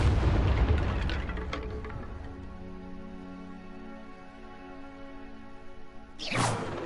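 A Confringo fire spell explodes in Hogwarts Legacy with a heavy boom, followed by a low rumbling decay and sustained game tones. A second sharp burst lands near the end.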